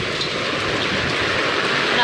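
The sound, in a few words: heavy monsoon rain falling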